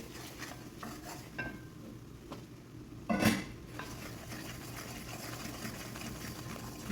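Flour and milk stirred together in a pan for white sauce, a steady scraping clatter of a utensil against metal running throughout, with one louder knock and scrape near the middle.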